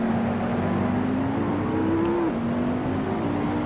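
A McLaren MP4-12C race car in an Assetto Corsa career race holds a steady, loud engine drone, its pitch rising slightly before a quick gear drop as another car comes up on the inside.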